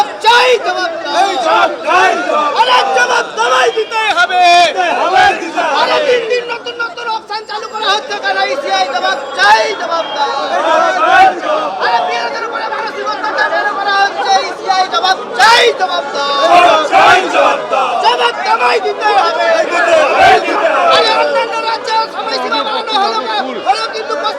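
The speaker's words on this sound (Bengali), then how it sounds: "ফের বিরোধী অধিকার মঞ্চের তরফে বিক্ষোভ দেখানো হচ্ছে।" Protesters gathered in front of the CEO office keep up a dense, continuous babble of many voices, with shouts rising out of the crowd now and then. The sound is loud and steady and stays close throughout.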